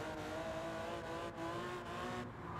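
Racing car engine in a driving game droning steadily at high revs, with the throttle tapped so the pitch wavers slightly, alone and fairly quiet throughout.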